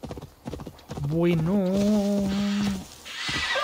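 Horse hooves clip-clop steadily in Assassin's Creed Valhalla, broken by a long loud neigh near the middle, with someone talking briefly before it.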